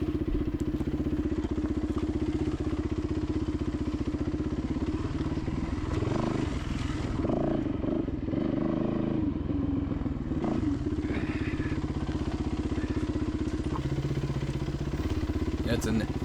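A dirt bike on the rocky Rincon hard enduro trail in California chugs and revs steadily close by, with clattering and thumps as the bike hits rocks; a voice talks over it throughout.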